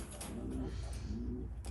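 A racing pigeon cock bird coos in a loft during breeding season, giving two soft low rolling coos at close range over faint background noise.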